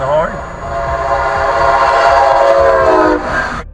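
A train horn sounds loud and sustained at a level crossing, a long harmonic blast over rumbling rail noise that cuts off abruptly near the end.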